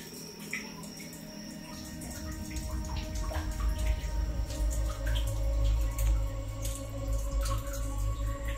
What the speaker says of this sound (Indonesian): tetesan-tetesan airnya